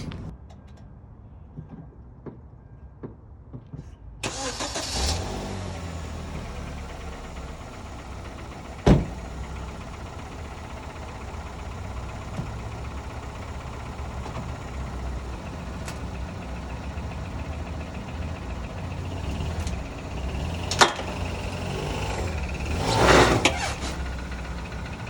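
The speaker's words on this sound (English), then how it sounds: "just drive it up onto the ramps one more time" A 2010 Kia Forte starts up and is driven onto ramps, its engine settling into a steady idle hum close by, punctuated by a few sharp knocks and a brief louder rev near the end.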